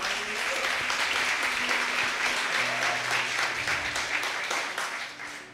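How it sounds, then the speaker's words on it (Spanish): A church congregation applauds during a service, a sustained, even wash of clapping from many hands that fills the whole stretch and fades slightly at the end, with no talking over it. "Dele un aplauso a Dios por eso."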